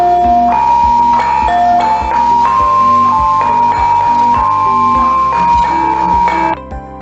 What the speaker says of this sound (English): And here's the sound of saron.